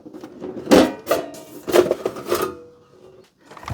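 Plastic-and-metal cover being worked loose and lifted off a Panasonic NV-HD600 VCR video recorder: several close, knocking clatters and scrapes in bursts, then quiet; no talk.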